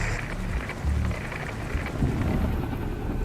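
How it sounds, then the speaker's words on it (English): Heavy rain and rolling thunder in the video game Beautiful Desolation on Switch. A dense, constant downpour hiss runs under deep, low rumbles that swell and fade, with no voices. "I can't see anything in this rain."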